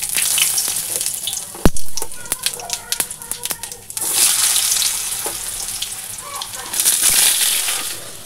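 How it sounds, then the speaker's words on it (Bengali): Potatoes are dropped into hot oil with tempering spices in a home kitchen pan. The sizzle is loud and bubbling, with a sharp clatter of utensils and stirring, and it swells again toward the end. "এবারে ফোড়ন দিয়ে আলু বসিয়ে দেব।"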